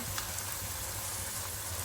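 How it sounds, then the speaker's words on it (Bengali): A hilsa fish head sizzles steadily in oil in a pan, a continuous close frying crackle with no talk. "এখানে এটা হালকা হালকা করে ভাজা হবে"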